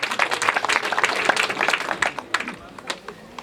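Wedding ceremony guests break into a burst of dense clapping that peaks early and then thins out into scattered claps, with a voice heard over it.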